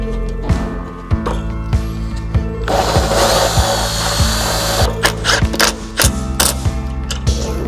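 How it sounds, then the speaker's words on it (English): A power drill bores holes during inner fender and core support installation on a long travel Tacoma build, with repeated short bursts of whirring and clicking tool contacts, loud and close, among shop clatter. "you go ahead and just drill out these 5 holes and bolt it again"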